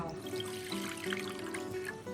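A steady stream of water pours continuously into a pot, a constant trickling rush with a faint hum underneath, no voices.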